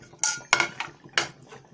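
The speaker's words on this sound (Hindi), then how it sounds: "अब इसको हम मिक्स कर लेंगे।" A spoon scrapes and clinks against a pot while potato curry is mixed, giving three or four sharp metallic strikes with short scrapes between them, close and moderately quiet.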